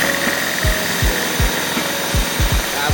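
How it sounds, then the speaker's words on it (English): A power drill bores into the plastic gear of a BMW M3/5/6 throttle actuator, a loud steady whine with repeated low knocks as the bit bites. "take a drill bit and drill basically into each side"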